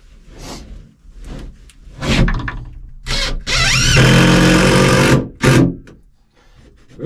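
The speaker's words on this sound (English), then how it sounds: "And I'm going to use 4 screws to screw it in." A power drill drives four screws to fix a door stop on a wooden chicken coop. Short close whirring bursts lead into one long, loud, steady motor run, then a final brief burst.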